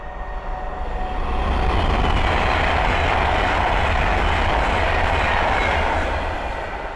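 An Avanti West Coast Class 390 Pendolino electric train passes at speed on the West Coast Main Line at Linslade, a loud, steady rushing roar with a deep low rumble that swells in and eases slightly at the end, with no voices.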